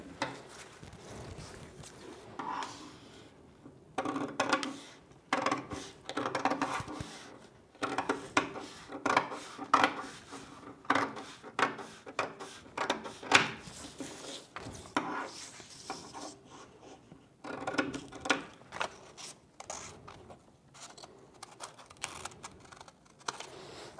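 Scissors cut through fabric for a waterfall hijab cape, giving a close, busy run of crisp snips and papery rustles in uneven bursts.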